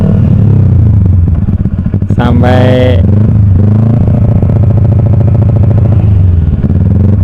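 A motorcycle fitted with a LeoVince aftermarket exhaust, riding along the JJLS coastal road in Gunungkidul, a loud close continuous engine drone and exhaust note that swells briefly, with a short word spoken over it.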